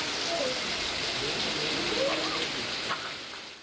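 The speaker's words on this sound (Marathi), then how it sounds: "पाचोरा तालुक्यातील वरखेडी परिसरामध्ये वाऱ्यासह मध्यम ते मुसळधार स्वरूपाचा पाऊस झाला" Moderate to heavy rain driven by wind falls in the Varkhedi area of Pachora taluka, Jalgaon, producing a loud, dense, steady hiss with no pauses throughout.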